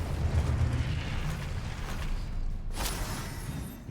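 A Confringo blasting spell goes off in Hogwarts Legacy as a sharp burst partway through, over a low rumbling game soundscape of creaks and mechanical noise.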